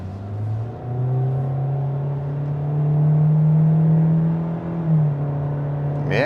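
A 2026 Hyundai Elantra SEL Sport accelerates from inside the cabin, its engine hum climbing steadily in pitch with a smooth, continuous drone and a brief dip at a gear change, no talking.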